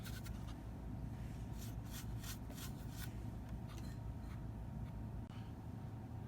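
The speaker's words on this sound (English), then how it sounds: "now it's time to go over it with a big brush, kind of knock off all the high points of it" A big brush rubbing and scrubbing over a 1/35 Dragon Models M752 self-propelled Lance missile launcher, knocking off high points and cleaning the track pads; a steady close dry rasping with a few sharper strokes, no talk.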